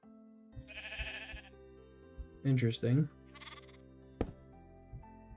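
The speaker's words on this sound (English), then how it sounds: "Baby sheep." A few short bleats from a lamb in a farming video game, clear and near, with a steady electronic tone behind them and someone speaking briefly.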